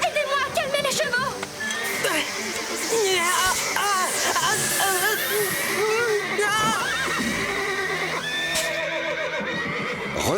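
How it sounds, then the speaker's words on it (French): Cartoon horses neigh and whinny repeatedly in an agitated stable scene, several loud overlapping calls with some hoof clopping, while voices speak over the commotion. "Marie et Rosa, aidez-moi à calmer les chevaux!"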